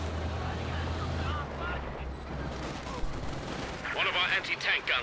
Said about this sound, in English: Katyusha targeting another long-range barrage.